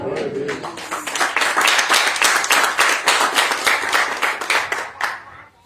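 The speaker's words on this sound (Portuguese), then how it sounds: "Diga glória a Deus e aplauda Ele." Church congregation clapping in praise, a loud, rhythmic run of many hands striking together in quick pulses, starting just after a voice fades and tapering off near the end.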